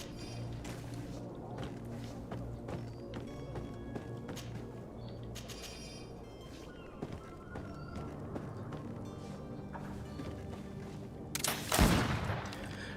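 Gunfire in the game GreedFall: a steady crackle of shots over a dense, busy background through most of the span, ending in one louder close blast near the end, with no talking.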